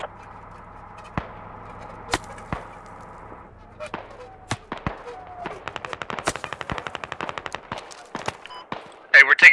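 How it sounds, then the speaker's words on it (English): Scattered single shots and then a rapid string of quick cracks from gunfire in the military shooter Squad, mostly distant and moderate, ending with a louder close burst. "Hey, we're taking fire at our half here."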